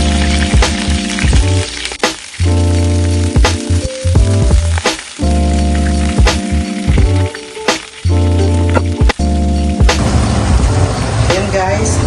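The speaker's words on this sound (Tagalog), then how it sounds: "Prito po tayo ng onion rings." Onion rings fry in hot oil with a loud, close, continuous sizzle, broken by occasional clinks and stirring sounds while cooking continues beside pork steak; background music plays throughout.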